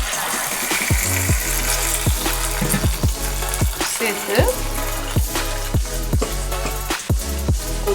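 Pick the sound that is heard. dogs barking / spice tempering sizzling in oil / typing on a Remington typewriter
spice tempering sizzling in oil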